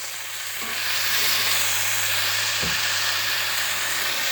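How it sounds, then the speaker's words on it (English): Steak frying on high heat in a hot pan, its fat cap rendering, with a steady broad sizzle and hiss that swells after the first second and holds up close without any talk. "That fat cap on the edge here is cooking up nicely."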